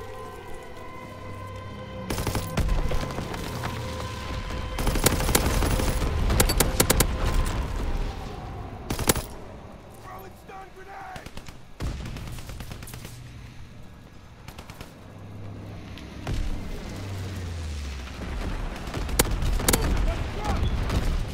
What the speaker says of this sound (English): Carpet bombing. Bomber mission ready for orders.